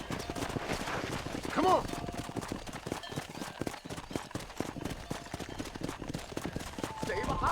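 Horse hooves gallop in a rhythmic clip-clop along a road in the video game Red Dead Redemption, a steady, close drumming under frequent talking and a brief spoken urging.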